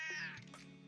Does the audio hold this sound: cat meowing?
yes